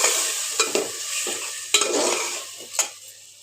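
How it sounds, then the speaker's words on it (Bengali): Chicken sautéing in a pan for a bean and potato curry, with a utensil scraping and stirring in several distinct strokes over a steady sizzle; close and clear, no voices. "ভালো করে চিকেনটাকে কষিয়ে নিব"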